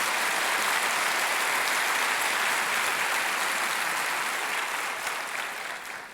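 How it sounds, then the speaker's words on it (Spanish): A church congregation claps loudly and continuously in a dense, sustained wash of applause that tapers slightly at the end. "dale ese fuerte aplauso a Dios si se lo vas a dar"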